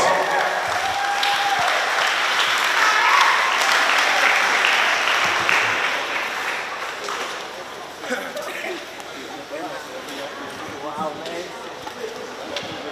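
Audience applause at the 2022 Micronesia Expo in Kosrae, honouring a youth group from Utwe: a dense, loud wash of clapping that swells early, then thins and fades somewhat while voices murmur in the crowd.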